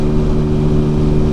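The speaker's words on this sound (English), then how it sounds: "So the throttle is wide open" A Sinnis Apache SMR 125 motorcycle engine at wide open throttle, about 50 mph and 9,000 rpm near its 12,000 rpm limit, gives a loud, steady, droning tone with strong harmonics and constant wind rush.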